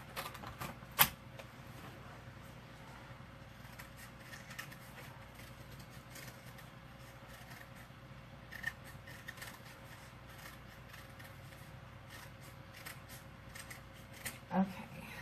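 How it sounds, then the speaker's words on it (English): Scissors cutting cardboard ear shapes for a no-carve pumpkin craft, a soft continuous snipping and rustling close by, with scattered sharper clicks. "Now we got to cut out the other two, so we have ears for both."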